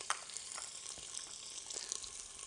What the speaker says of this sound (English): I'll start with the bacon here. Get in there, starting to sizzle already.